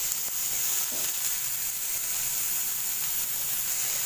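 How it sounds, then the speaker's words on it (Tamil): Onions and tomatoes sauté in a pan for egg kothu chapati, giving a steady, even sizzling hiss that stays close and constant throughout, with no voices. "இப்போ பாருங்கள் வெங்காயம் ஓரளவுக்கு வதங்கியிருக்கு இந்த ஸ்டேஜில் வந்துட்டு தக்காளி சேர்த்துக்கிறேன் இதையும் சேர்த்து நல்லா வதக்கிடலாம்"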